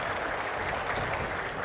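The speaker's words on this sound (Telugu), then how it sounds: "గట్టిగా చప్పట్లు కొట్టి చేసిన దానికి అభినందిద్దాం" An audience at a government officials' review meeting with Chief Minister Chandrababu Naidu in Kalidindi, Kaikaluru, claps in steady, dense applause throughout the short moment, with no speech over it.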